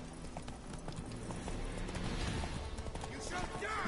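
Roach, Geralt's horse in The Witcher 3: Hearts of Stone, gallops with a rapid, rhythmic clatter of hooves, fairly close and steady, over a busy game soundscape with other effects layered beneath.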